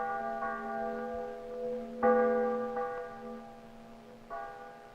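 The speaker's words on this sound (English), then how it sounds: "there was a strange silence, except for some church bells still clanging wildly" Church bells clanging with ringing, sustained tones, several strikes at uneven intervals, each note hanging and fading, distant and fairly soft with no other sounds.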